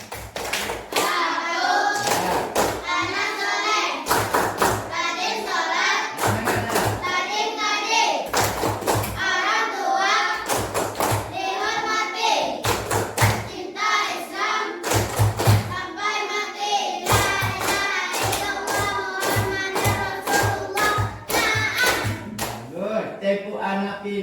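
A group of children clap out a patterned rhythm in bursts of sharp claps, with chanted voices between and over the clapping.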